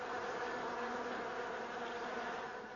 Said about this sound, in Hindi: यहाँ चारों तरफ मधुमक्खियां नजर आ रही हैं। उधर देखिए, मधुमक्खियां।